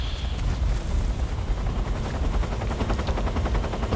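Rapid helicopter gunfire in Metal Gear Solid 3, a dense, steady rattle of machine-gun bursts over a low rotor rumble, loud and continuous throughout with no talking.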